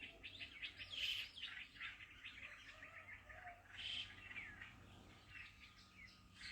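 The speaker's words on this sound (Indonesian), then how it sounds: "banyak sekali burung-burung di rumahku ini" Many small birds chirp and tweet around a house, a fairly faint but continuous chatter of overlapping calls with a few brighter bursts, heard alone without voices.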